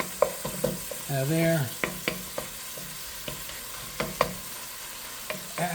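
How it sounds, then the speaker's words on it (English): Ground beef browning in a pan for a stew, sizzling quietly under a series of sharp scraping stirs and taps, with a brief word spoken close by. "you see it's browning up very nicely here"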